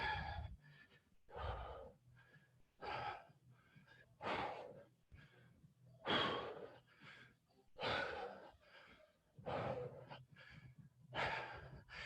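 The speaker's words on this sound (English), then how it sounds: "I'm exhaling every time I push overhead." Forceful breaths from someone doing overhead presses in a livestreamed workout: about nine sharp, rhythmic exhalations roughly every second and a half, close and breathy, with no words spoken.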